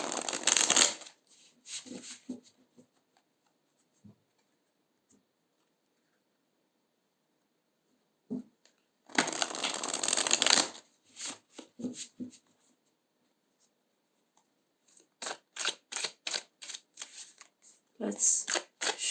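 Tarot cards being shuffled in several quick riffling bursts separated by silence, with a faint voice briefly in between.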